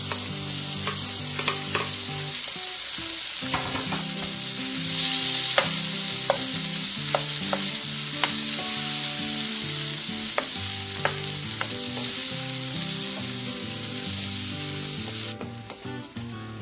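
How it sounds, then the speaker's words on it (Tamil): Tomatoes sauté with ginger and garlic in a pan for a mint chutney, giving a steady, close sizzle with frequent clicks and scrapes of a spoon stirring, continuous and fairly loud without speech. "இஞ்சி பூண்டு கொஞ்சம் வதங்கின உடனே இந்த தக்காளியை சேர்த்துக்க போறோம்"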